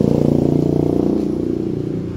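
A motorcycle riding along toward the farmland, its engine droning steadily and close with a fast regular pulsing throb, slightly easing off over the final second.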